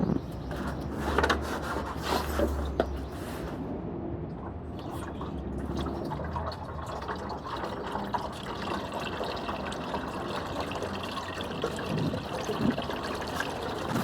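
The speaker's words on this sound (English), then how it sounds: "turn the tap on to just really rinse through the radiator and catch what comes out on the other side" Tap water flushes through the radiator of a Yamaha XTZ660 motorcycle during a coolant change, a steady close trickle and pour with splashing, running continuously with slight surges and no voices.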